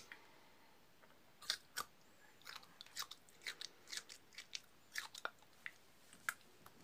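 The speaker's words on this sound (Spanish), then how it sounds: "Nadie vio que lo masticara." Someone chews a cookie in close, crisp crunching bites that come in an uneven rhythm of a dozen or more sharp snaps over a quiet background, with no talk.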